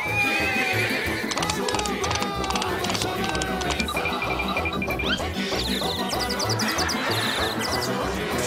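A horse whinnies repeatedly over a steady clip-clop of hooves, loud and close, in a busy outdoor scene with constant background noise and some faint voices.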